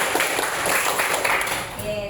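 A group claps out a four-count pattern in a call-and-response clapping game, the hand claps fairly close and busy with a voice talking over them throughout.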